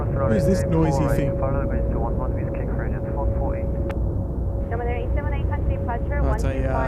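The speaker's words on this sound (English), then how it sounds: "That's a Korean 321 Neo" A Korean Air Airbus A321neo airliner roars steadily near an airport runway, loud and sustained throughout. Several voices talk over the engine noise.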